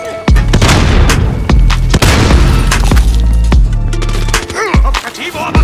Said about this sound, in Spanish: ¡Va una granada!